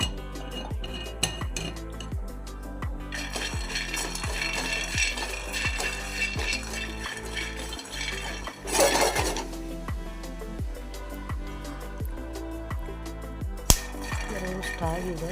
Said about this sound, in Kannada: ಫಸ್ಟು ಶೇಂಗಾನ ಸ್ವಲ್ಪ ರೋಸ್ಟ್ ಆಗೋವರೆಗೂ ಫ್ರೈ ಮಾಡ್ಕೋಬೇಕು